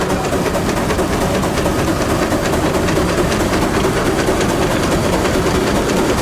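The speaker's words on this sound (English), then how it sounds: "Next we have a beautiful Minneapolis engine. This is a 20 horsepower Minneapolis." A 1913 Minneapolis 20 horsepower steam traction engine runs at a thresheree show, a steady loud broadband chuffing rumble with no break or pause.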